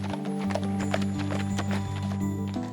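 Horse hooves clip-clop on a road during a medieval-themed ride, a steady close rhythm of hard strikes over a droning musical background.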